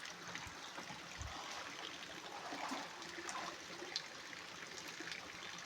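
Water pours down at a twin waterfall where a hole sits in the middle of the plunge area, a steady broad rushing wash that holds even and continuous throughout with no voices.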